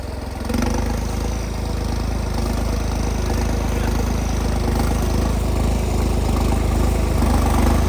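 A New Holland 3630 Special Edition tractor engine starts up and then drones steadily and loudly close by as it hauls a paddy trolley. The chugging engine note holds constant throughout.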